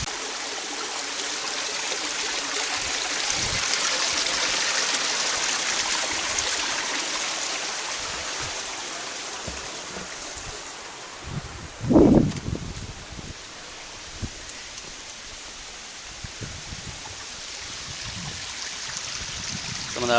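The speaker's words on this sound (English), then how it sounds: "there is a waterfall here, which you can hear" A small waterfall trickles steadily into a slack, mucky pool near a dam, a continuous soft wash of falling water heard from a little distance with a brief rustle or knock partway through.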